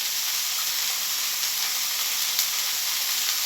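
Finely chopped garlic sizzling in a hot pan for veg fried rice on a gas hob, a loud, continuous close-up hiss with faint stirring, no voices.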